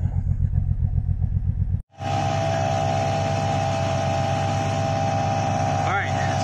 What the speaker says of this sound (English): I just started the Z. It's been sitting for like 2 years.